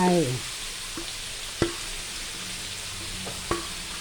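Pork, peas, Chinese cabbage and wood ear mushroom stir-fried in a wok, with a soft steady sizzle and a few sharp clanks of the spatula against the pan.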